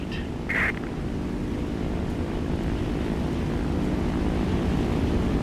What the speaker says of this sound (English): The plane has reached a high enough speed.